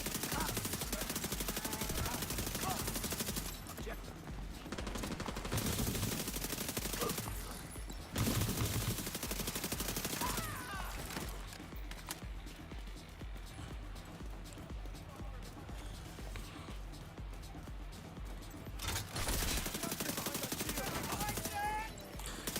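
Rapid SMG gunfire in The Division 2, heavy automatic bursts in several long stretches with short breaks, loud and up close, with a voice talking over the shooting.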